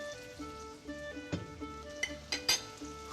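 A spoon scrapes and clinks against a pot while a quince stew seasoned with ground pepper is stirred, several distinct knocks and taps over a faint steady background hum, with no talking.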